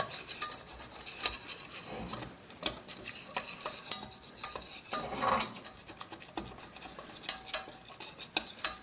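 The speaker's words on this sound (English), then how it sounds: "I want to mix that in and start making a paste. Start to cook the flour in the butter." Butter and flour being stirred together in a pan for a roux, with a utensil scraping and clinking against the pan in an irregular rhythm of close, light strokes and no voices.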